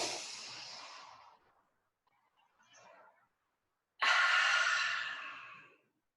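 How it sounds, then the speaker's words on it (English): Two long, breathy yoga exhales with an open-mouthed ha, separated by a soft quiet inhale; close and fairly loud, with no talking. "So we're making the ha sound, which also opens our heart and our shoulders."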